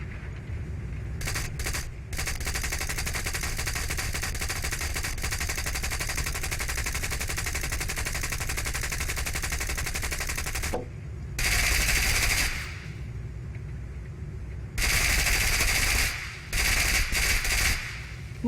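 Aircraft machine guns in the War Thunder game rattle in a long sustained burst, followed by several shorter bursts after brief gaps, loud and close under a continuous engine drone.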